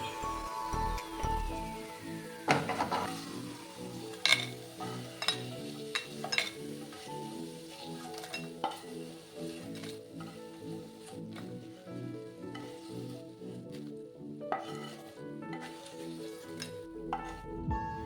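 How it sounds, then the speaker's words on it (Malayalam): Breadfruit chips sizzle steadily in hot oil as they are stirred, with a utensil scraping and clinking against the pan now and then, close and fairly loud throughout. "നല്ലപോലെ മൊരിഞ്ഞ് കഴിയുമ്പോൾ തിരിച്ച് മറിച്ച് വിട്ട് നല്ലപോലെ ഫ്രൈ ആവും."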